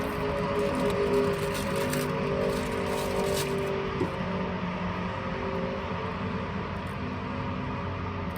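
A car engine idles steadily after being started, a continuous low droning hum with faint tonal whine, heard from inside or close by without talking.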